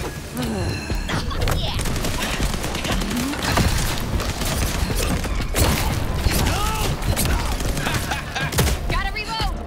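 Dense, rapid gunfire fills a firefight in the vampire action game Vampire: The Masquerade - Bloodlines 2, with loud overlapping shots and bursts, booms and mechanical clatter. A voice speaks briefly over the din.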